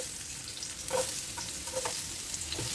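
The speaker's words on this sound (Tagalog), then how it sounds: "Mainit na yung ating mantika at ilagay na natin yung ating sibuyas muna." Onion sizzles in hot cooking oil for Ilocano pinapaitan, a close, continuous frying crackle with small popping bursts.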